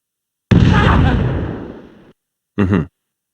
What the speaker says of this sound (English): Press the X button to throw the grenade.